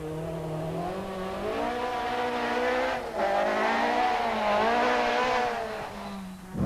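A race car in the 2004 Tour Natal overshoots a corner, its engine droning loudly and rising and falling in pitch through gear changes, with tyres squealing and scrubbing throughout and no voices.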